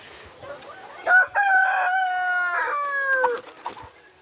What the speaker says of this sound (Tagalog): Yun ang isang tandang.